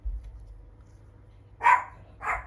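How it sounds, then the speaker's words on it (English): Two short indoor dog barks, the first sharper and louder, the second softer, heard against a quiet room background. "I don't know what he's barking at."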